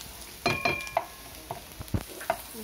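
Garlic being fried in a pan until it is lightly toasted, for pork binagoongan, heard as soft sizzling with a few clinks and scrapes of a spatula stirring it, close by.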